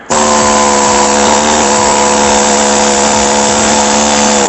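A powered tool runs steadily and loudly for about four seconds, starting and stopping abruptly, while paint is scraped off a 1995 Peterbilt 377 truck; there is a sustained buzzing hum with no talk.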